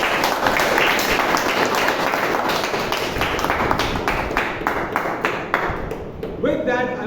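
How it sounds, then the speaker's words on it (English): An audience at a Toastmasters club tall tales contest gives sustained applause to the participants, with dense clapping continuing steadily throughout before tapering near the end. "Let's have a big round of applause for everyone here."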